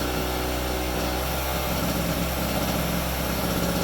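A Harbor Freight 800 watt portable generator runs steadily under an electrical load, a loud, continuous close engine drone with a pulsing low rumble and no talk.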